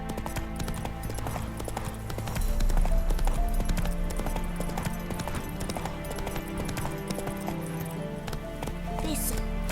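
A horse gallops in the video game The Witcher 3, its hooves pounding in a fast, steady clip-clop rhythm, loud and continuous beneath game music and ambient sound.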